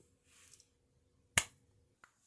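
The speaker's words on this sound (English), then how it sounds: "let me snap my fingers and see what happens" A single sharp finger snap, close and crisp, standing out against near silence with a few faint rustles before and after.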